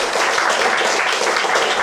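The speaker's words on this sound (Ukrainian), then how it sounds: "Голосування за її обрання пройшло за новими європейськими стандартами, не підняттям руки, а оплесками присутніх" Continuous applause from attendees of a youth council vote, a dense steady clatter of many hands clapping close by.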